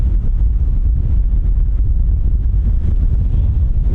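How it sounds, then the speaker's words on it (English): Strong wind buffets a microphone outdoors at Dublin Airport, a loud, continuous low roar of gusts with no talking. "Wow, it's windy."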